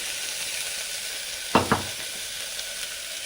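Oil sizzles steadily in a pan while ingredients fry for coconut milk biryani, a constant hissing crackle broken midway by two quick scraping stirs and a couple of faint knocks.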